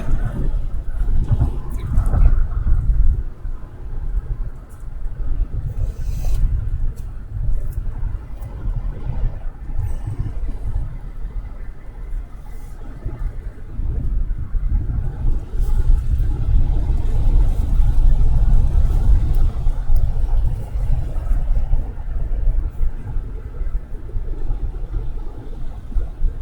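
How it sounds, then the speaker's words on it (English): A vehicle on I-10 drives over hurricane debris of twigs, pine cones and branches, making a loud, continuous low road rumble broken by uneven bumps and thumps. "whenever you hear that bumpy sound, it's, the twigs and pine cones and branches and stuff that fell from the hurricane"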